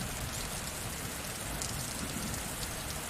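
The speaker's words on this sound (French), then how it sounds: "Ressens la pluie." Steady rain falls continuously, a dense hiss of drops pattering on a surface without pause.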